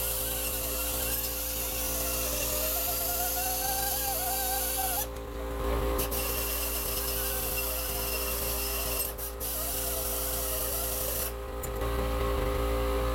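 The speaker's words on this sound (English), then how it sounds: "Turn the air compressor back on." An air compressor runs continuously in a workshop while turbos are mounted and welded. It makes a loud, steady mechanical drone with a constant hum that dips briefly three times.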